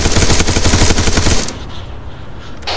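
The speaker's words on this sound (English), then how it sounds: "It's so loud, the sound effects, my gunfire." Rapid bursts of video game gunfire, loud and close, hammer steadily for about a second and a half in a winter battle with an enemy vehicle, then cut off to a quieter rumbling background.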